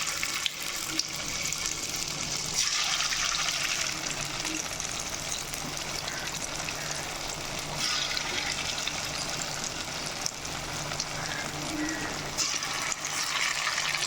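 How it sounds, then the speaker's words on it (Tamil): Marinated chicken 65 pieces deep-fry in hot oil, giving a dense, even hiss and bubbling roar that holds at a constant level throughout, with no one speaking. "நம்ம ரெடி பண்ணி வச்சுருந்த சிக்கனை மசாலா நல்லா இது பண்ண மாதிரி எண்ணெயில் போட்டுக்கலாம்"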